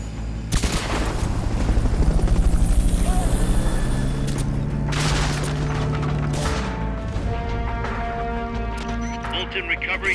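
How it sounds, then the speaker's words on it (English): Recovery helicopter in Metal Gear Solid Peace Walker: a loud, steady rotor drone carries on throughout, with booming impacts and crackling bursts at the start and clanking mechanical noises later. "Fulton recovery subject confirmed onboard helicopter"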